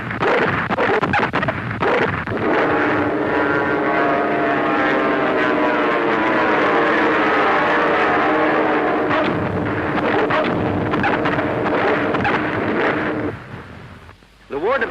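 Loud droning roar of American dive bomber aircraft in a vintage cartoon, with engine pitch sweeping and wavering as the planes pass and dive, steady for over ten seconds before dropping away.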